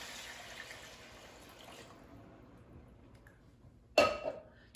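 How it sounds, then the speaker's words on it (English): Chicken broth pours into a pot of sausage and potato soup as a steady liquid stream for about two seconds, then fades to quiet. A sharp louder splash or clatter follows near the end. "I'm going to add the 3 cups of chicken broth."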